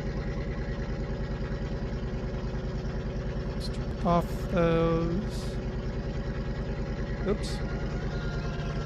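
A truck engine idles in the video game Farming Simulator 2013 with a steady, rhythmic diesel rumble throughout, while someone talks briefly over it and a few short clunks and squeaks sound.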